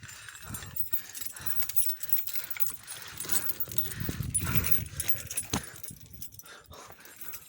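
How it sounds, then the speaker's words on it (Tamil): A metal chain rattles and jangles in irregular bursts as someone grips it while climbing the rocky Kondarangi Keeranur hill in Dindigul, heard close against faint outdoor background noise. "செயினை பிடிச்சி மேலே ஏறணும்."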